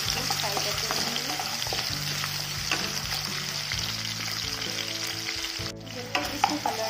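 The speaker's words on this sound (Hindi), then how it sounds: "आलू को हम तेल से भून लेंगे. तेल गर्म होने तक इसको फ्राई करते रहेंगे." Potatoes fry in hot oil for a drumstick curry, giving a steady, close sizzle with a low hum running underneath. Occasional scrapes and stirs break through, and there is no talking.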